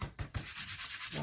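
Versamark ink pad rubbed firmly over card in a few quick scrubbing strokes followed by a softer continuous rub, close and fairly quiet.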